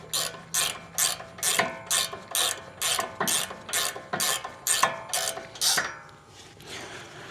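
Speed wrench ratcheting steadily while spinning a fastener during a brake pad and rotor change on a vehicle, about a dozen quick evenly spaced clicking bursts, close and clear, ending in a softer rattle.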